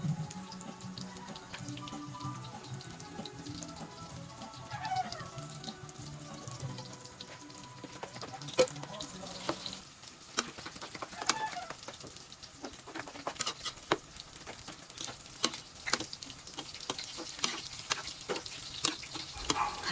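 Soaked rice noodles (bihon) hit a hot pan and fry with a soft, steady sizzle and wet crackle, broken by occasional sharper clinks and scrapes of stirring.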